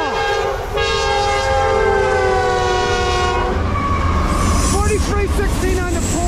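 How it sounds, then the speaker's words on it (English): A Norfolk Southern freight train led by a Dash 9-44CW roars past close and loud, its horn blaring in long sustained blasts over rumbling wheels and clattering rail cars. "Norfolk Southern, give me a horn show."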